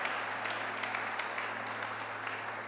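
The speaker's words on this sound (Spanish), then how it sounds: "Por eso yo quiero que usted hoy déle ese aplauso al Señor" A congregation applauds in praise at a church service, a steady wash of clapping filling the room at moderate loudness throughout, with no clear break or voice standing out.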